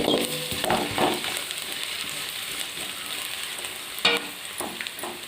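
Finely chopped garlic sautéing with softened onions in a pan for a yellow pumpkin kootu, a close, steady sizzle with a spatula scraping and stirring through it, and a sharper clink of metal near the end.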